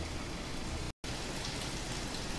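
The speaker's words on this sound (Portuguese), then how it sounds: "Chuva agora caindo forte." Heavy summer rain pours down in Porto Alegre, a dense, continuous hiss of falling water with one brief dropout, steady and close.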